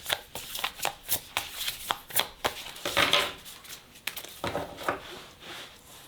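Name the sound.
drawing cards from a Prism of Visions tarot deck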